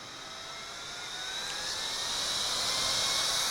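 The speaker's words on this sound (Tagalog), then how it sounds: "I've tried a lot of mini fans already, but this gotta be the best one yet. Kasi guys, look, I'll just turn it on." A Jisoo Life Handheld Fan Pro 1S mini fan, rated at 15,000 RPM, runs at its maximum setting, giving a steady high-pitched whir that slowly builds in loudness and stays close and continuous.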